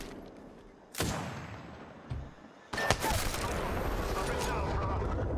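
Gunfire in the Apex Legends video game: sharp bursts of shots crack out in short volleys amid game ambience, rising into sustained rapid firing toward the end, with a player's voice talking at moments.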